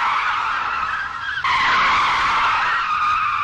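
Car with a broken gearbox skidding and sliding around, a loud continuous tire screech held close throughout with a sharp shift in pitch midway.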